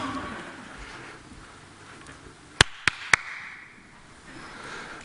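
A presenter on stage gives three sharp, close hand claps in quick succession over a quiet room, crisp separate slaps with the last two evenly spaced.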